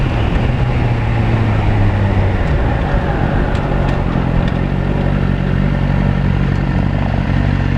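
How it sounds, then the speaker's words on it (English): A Suzuki GSX-R1000 superbike fitted with a Yoshimura exhaust accelerates, its engine a loud, continuous, rising roar with wind rush, heard close up and without speech. "It's worth getting this pipe, making a lovely sound."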